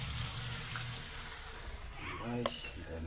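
Water poured into a hot pan of marinated pork steak sets off a quiet, steady sizzle, with a brief splashing burst near the end.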